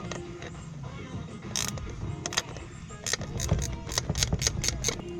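A 10 mm socket on a ratchet loosening a bolt in the engine bay of a Mk6 Golf R during intake manifold removal, with a run of quick metallic ratchet clicks and creaks, close and moderately loud.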